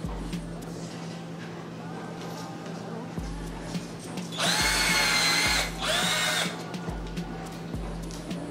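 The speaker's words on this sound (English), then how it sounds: "then we're going to get to drilling them in." A power drill drives screws into bar stools in two short bursts close by, separated by a brief pause, over a low humming background.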